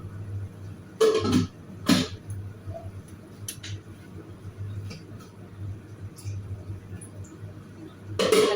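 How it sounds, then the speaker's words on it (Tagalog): Someone coughs behind the speaker in a kitchen where coconut milk is being added to a dish, with two short coughs near the start and another at the end over a steady low hum. "May umuubo dito sa likod ko."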